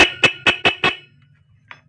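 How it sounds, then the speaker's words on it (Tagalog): A car horn wired through a relay sounds five short, evenly spaced honks in quick succession, loud and close, then falls silent before one faint brief chirp. "Your horn is crying now."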